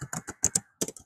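Quick bursts of computer keyboard typing as code is written, with close, crisp key clicks in short irregular clusters and a brief pause midway.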